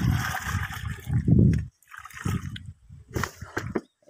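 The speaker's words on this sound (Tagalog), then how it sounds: "lagyan mo ng tubig" Water splashes and sloshes as it is poured into a pesticide mixture for an eggplant plant hit by whiteflies, in a close, uneven gush that pauses and then returns in short bursts.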